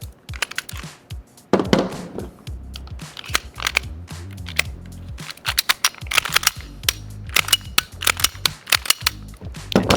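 A GHK Glock Gen5 airsoft pistol fitted with a TRI trigger fires 0.2 gram BBs from a ten-round magazine. It makes a series of sharp, close snapping cracks at an irregular pace, some coming in quick pairs.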